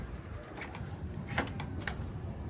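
Soft pigeon coos recur a few times at a moderate distance over a steady low background hum, with no talk.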